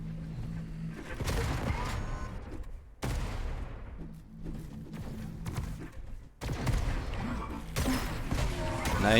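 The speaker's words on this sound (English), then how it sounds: "Ends with a nice direct shotgun onto Fett there." Shotgun blasts in a competitive video game match, a series of loud sharp bursts over busy game noise and music, with sudden cuts between dense stretches of firing.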